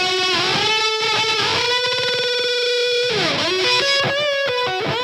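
A bass guitar run through a virtual mix rack with the bass turned fully up, giving a dense, distorted, effects-laden tone that plays continuously and loudly on its own with shifting notes.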